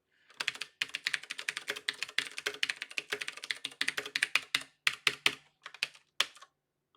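Close, brisk typing on a computer keyboard: a dense run of quick key clicks with short pauses and a few louder taps near the end, with no voices over it.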